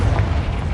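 Confringo blasting spell exploding in Hogwarts Legacy, a loud, dense booming roar that fills the short moment without pause, heavy and low.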